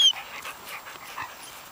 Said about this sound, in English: Australian Shepherd.